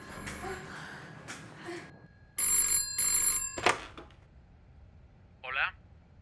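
A telephone in a tense film scene rings in two short, bright bursts, close and loud, among gasps and heavy breathing.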